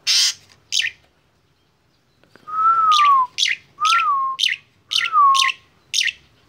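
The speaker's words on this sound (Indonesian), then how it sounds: "karena burungnya jinak dan juga gacor" A tame pet songbird lets out sharp chirps followed by a run of clear descending whistles alternating with bright chirps, close and alone in a quiet room.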